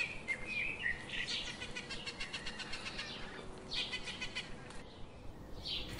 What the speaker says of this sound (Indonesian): Oh, ternyata burung kakatua ya?